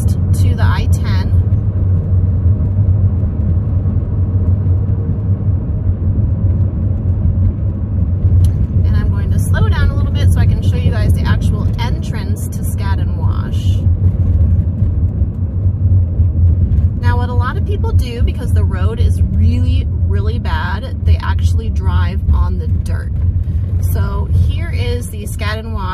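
Vehicle rolling along a rough dirt road on BLM land near I-10 in Quartzsite, with a steady loud low rumble throughout and someone talking over it for much of the time.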